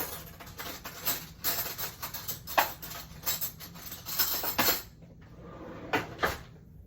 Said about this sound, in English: Grab another spoon here.